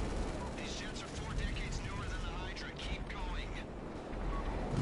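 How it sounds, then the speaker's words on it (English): Jet cannon fire in GTA 5 rattles as a dense, continuous burst of rapid shots over steady engine roar, with voices talking over it throughout. "I'm using my cannon, bro."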